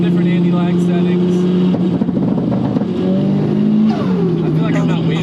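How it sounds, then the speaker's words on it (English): A Nissan S15 with a big turbo revs hard while testing anti-lag settings, its engine drone rising and falling up close, with a voice speaking over it. "Alright, trying some different anti-lag settings."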